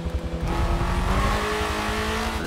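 Korean car braking into a downhill section on a Forza Motorsport 7 track, engine note dropping and shifting with a short tyre squeal, loud and steady under a brief rumble, no talk.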